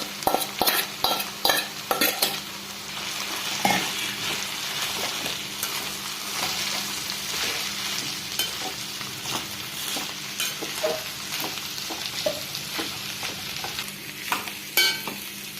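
Spice paste is stirred into elephant foot yam frying in a Kerala-style thoran, with a soft continuous sizzle broken by repeated close scrapes and clinks of a spoon against the pan.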